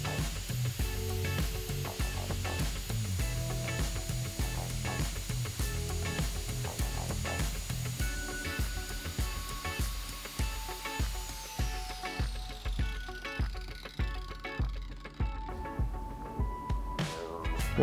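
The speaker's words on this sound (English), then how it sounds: "Place the spanner on its side and grind a bevel on the end." A bench grinder grinds a bevel onto the end of a steel spanner, a steady abrasive whine with shifting scraping and rasping as the metal is pressed against the wheel, continuous and fairly close throughout.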